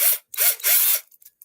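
A cordless drill with a dying battery gives three short, strained whirring bursts, followed by faint clicks.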